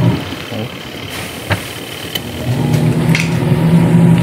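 A washing machine motor runs strongly with a steady low hum that builds after a couple of seconds, joined by a few sharp clicks and water churning, close by and continuous.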